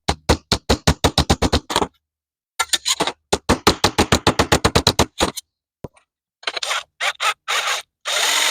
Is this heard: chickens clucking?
no